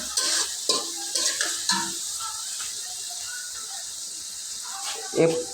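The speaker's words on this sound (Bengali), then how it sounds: "এই পেঁয়াজটাকে কোনো মতন হালকা কষিয়ে নেবেন।" Onion with turmeric and chili fries in a pan and is stirred, giving a steady hiss of sizzling oil with a few scraping strokes early on and a louder clatter near the end, close up.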